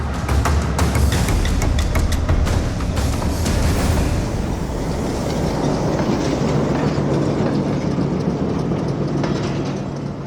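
A train running on broad gauge track at Lahore railway station rumbles loud and steady for about ten seconds, with rapid clattering wheel clicks early on that ease into a continuous low roar.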